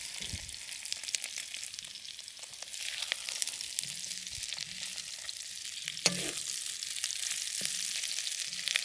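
Beef pieces for a bean sprout stir fry browning in a hot pan, a steady, moderately quiet sizzle with occasional light clicks of turning, heard alone.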